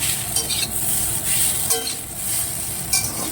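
Chowmein noodles are tossed and stirred in a hot pan with a splash of soy sauce, giving a steady crackling sizzle broken by light scrapes and clinks of the utensil against the pan.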